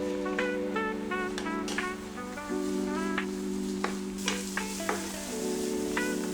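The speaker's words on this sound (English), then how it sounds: "Add the pasta, sauce, and Perilla leaves, then stir fry for another 2 minutes." Pasta with sauce and perilla leaves, after enoki mushrooms, is stir-fried in a pan, a soft steady sizzle with intermittent scraping stirs over a sustained tonal background hum.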